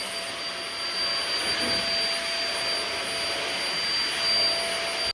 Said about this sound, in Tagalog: May taong nag-e-enjoy mag-vacuum,